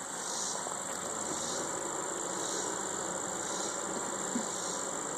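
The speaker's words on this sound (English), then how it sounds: "Look at that bee power right there." Honey bees on a hive frame, opened for making a small split, buzz in a dense, steady drone that stays loud and close throughout, with no talking.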